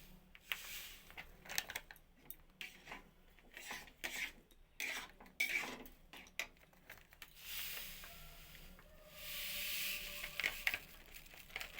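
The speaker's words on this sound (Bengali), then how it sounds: "এই যে অল্প অল্প করে সুজি দিচ্ছি আর নাড়িয়ে নিই" Semolina is stirred a little at a time into a pan for fried kheer pitha, making intermittent scraping, rubbing and light clinking against the pan with brief pauses, close and fairly quiet.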